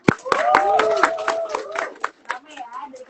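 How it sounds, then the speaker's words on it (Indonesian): Audience members at an Indonesian student event clap, sharp close claps in an uneven burst that trails off, with a person talking over them. "boleh tepuk tangannya dulu dong"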